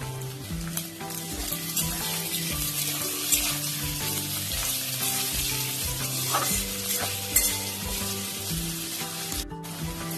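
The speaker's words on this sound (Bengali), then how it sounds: "দুটো পেঁয়াজ আর কাঁচা লঙ্কা কুচিয়ে রেখেছিলাম, দিয়ে দিচ্ছি।" Chopped onion and green chilies drop into hot oil in a pan for a loitta dried fish and eggplant dish, frying with a steady loud sizzle and occasional stirring scrapes, with no talking.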